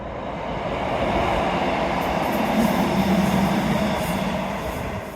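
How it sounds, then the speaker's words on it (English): A train rumbles past, its steady rolling roar swelling to a peak in the middle and easing off toward the end. "Train!"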